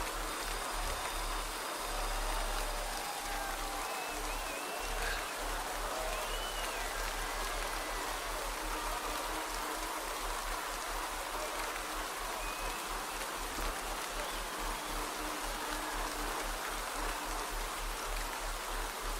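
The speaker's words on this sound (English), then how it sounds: "It's raining." Steady, even rainfall in the cycling game Zwift hissing continuously for the whole stretch, a constant wash of drops with no voices.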